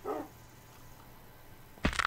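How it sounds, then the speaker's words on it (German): A dog barks in a survival video game, one short burst near the start and a louder bark toward the end, over a quiet low ambient hum. "ah, das ist noch ein Hundi."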